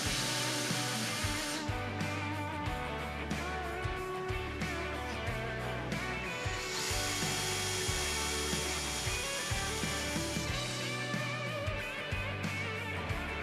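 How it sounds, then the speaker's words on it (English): Power drill with a 1/4 inch bit boring into the steel brush guard of a Kubota tractor, a sustained motor whine with a grinding edge, close and loud, broken by short pauses and restarts. "First, I drill just enough to make good divots in the brush guard."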